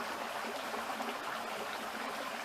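A stream flows past fallen trees beside a wooded trail near Lake Jackson in Florida after a rainy season, a steady, close wash of rushing water with no talk.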